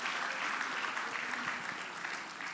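A steady wash of clapping from a large crowd at a conference on preventing violence against women and girls, sustained and full throughout without pause.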